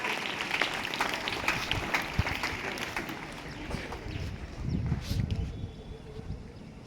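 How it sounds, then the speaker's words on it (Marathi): Scattered clapping from a crowd at a school prize ceremony for scholarship students, steady and moderately loud, swelling briefly near the end amid some background murmur. "सगळ्यांनी जोरदार टाळ्या वाजून स्वागत करायचं आहे"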